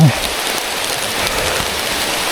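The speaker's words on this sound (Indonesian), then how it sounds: "intensitas hujannya lama" Steady heavy rain pours on a slippery mountain trail, a dense, continuous hiss of drops close around, with no break across the short stretch.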